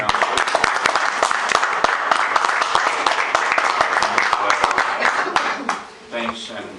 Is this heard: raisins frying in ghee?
no